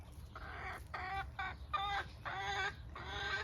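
Backyard hens cluck in a series of short, bright bursts, close and fairly soft, over a low background rumble with no talking.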